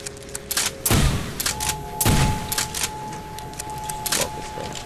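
A pump-action trench gun shotgun fires in Call of Duty Black Ops, giving two loud, booming blasts about a second apart over a busy background of game noise.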